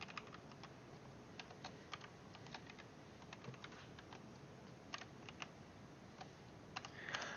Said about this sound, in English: what we're going to want to do is type the following.